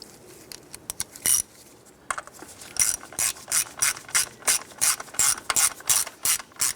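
A ratchet clicks in quick repeated bursts while snugging down a screw on the plastic fuel injector cover of a 1994-2004 Chevy S10, close and crisp, with short pauses between strokes and no talking.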